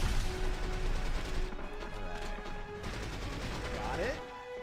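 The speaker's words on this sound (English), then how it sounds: "Keep firing, assholes." Gunfire in the 007 From Russia With Love video game, dense rapid shots and crashes forming a loud, continuous fusillade with game voices talking over it.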